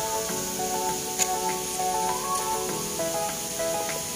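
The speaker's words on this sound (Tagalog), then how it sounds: "Oh, spray spray sa lamo." Insect spray against mosquitoes, used in Fusionopolis South at One North, gives a continuous hiss that carries evenly at moderate level over a faint background hum.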